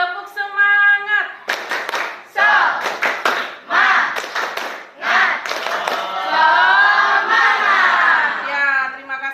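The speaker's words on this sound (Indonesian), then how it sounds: "Tepuk semangat." A class of schoolchildren does a rhythmic spirit clap, chanting together between bursts of synchronized clapping and ending in loud group cheering, all close and energetic.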